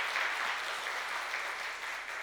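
Congregation in a church giving a round of thanks applause, steady dense clapping filling the room throughout, moderately quiet and heard without talk.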